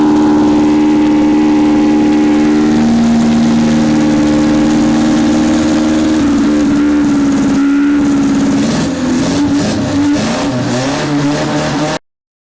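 Fiat Panda engine refitted with its original carburetors, running steadily up close and then blipped through several sharp revs near the end before cutting off abruptly; no voices.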